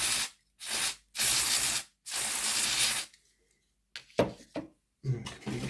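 Spray cleaner squirted onto the wheels of a Bachmann Class A4 model locomotive, with three loud, close hissing bursts in quick succession, then a few quiet clicks and handling knocks.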